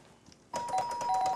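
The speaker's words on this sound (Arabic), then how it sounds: "يا ريت الجرس ضرب" A doorbell rings in an Egyptian TV drama, starting after a short quiet pause as a bright repeating electronic chime that carries on to the end, fairly faint with no talk over it.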